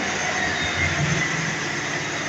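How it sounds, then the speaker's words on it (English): A train pulls away from a station at Trowbridge with a steady, loud rumble of engine and wheels and no pause or speech. "what a lovely sound that makes pulling away."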